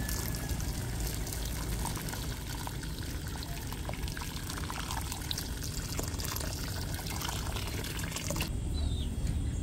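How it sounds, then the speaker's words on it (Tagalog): Water poured steadily into a pan while cooking pancit canton, a continuous close splashing pour that runs for most of the stretch before ending abruptly near the close. "at lalagyan na po natin ng tubig"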